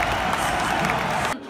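A crowd at an esports Worlds event roars with cheering and applause in a dense, continuous wash that cuts off abruptly after about a second and a half.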